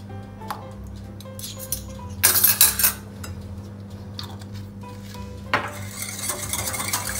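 Batter for an eggless whole wheat butterscotch cake being mixed in a bowl, with a utensil clinking and scraping against the sides in short, uneven bursts of moderate loudness and no talking.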